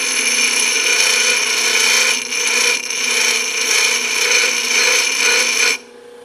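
Bench grinder grinding a tapered drill bit in a machine shop, a steady high whine with bright tonal ringing, close and continuous, with brief dips as the bit is pressed and lifted, then cutting off near the end.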